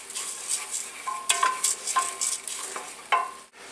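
Arborio rice is stirred into a pan of sizzling wild mushroom risotto, with a spoon scraping and clinking against the pan in irregular strokes over a soft, steady frying hiss, close and alone.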